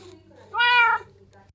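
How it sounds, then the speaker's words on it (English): A single short cat meow from the video game Minecraft, clear and close, rises and falls over a faint low background hum. "just meowing."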